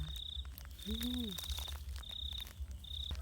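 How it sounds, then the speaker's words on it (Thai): Crickets chirping at night in rice fields, bursts of high, steady trilling starting and stopping over a soft background hum, with a brief lower call in the middle. "ทุกคนได้ยินเสียงจิ้งหรีดนะคะ"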